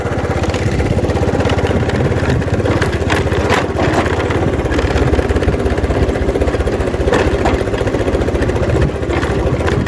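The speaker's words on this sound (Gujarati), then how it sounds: "તો આપણે આ બુલેટ લઈને જવાનું છે" A Royal Enfield Bullet motorcycle engine runs steadily close by on a village farm outing, a continuous low thumping idle that holds even and loud for about ten seconds with no talk.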